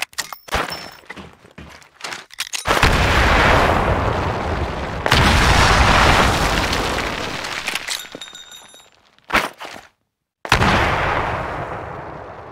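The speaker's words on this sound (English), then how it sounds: "Throw a grenade into each of the windows." Grenade explosions in the Titanfall video game: loud, heavy booming blasts and gunfire rumble across the whole stretch, with several sharp bursts, a sudden silent gap, then another blast.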